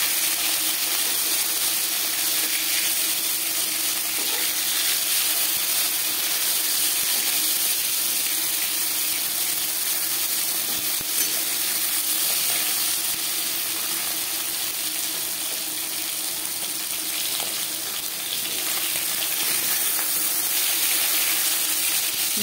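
Pieces of rohu fish fry in a pan of oil, giving a steady, even sizzling hiss that carries on unbroken, with no one talking.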